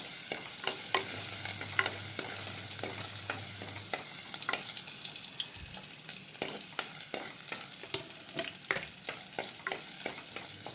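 Chopped garlic and a small piece of ginger fry in hot oil for squid curry, giving a steady hiss with frequent quick taps of stirring, close by and alone without speech.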